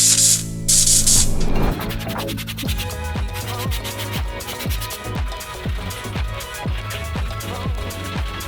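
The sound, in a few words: spraying interior cleaner on car interior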